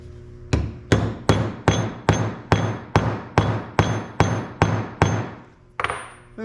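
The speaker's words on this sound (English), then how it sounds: "we're going to take my hammer, go down a little bit on that" A hammer strikes a mokume gane ring seated on a metal die, with eleven sharp metallic blows at a steady, even pace, each ringing briefly before the next, close and clear with no talking.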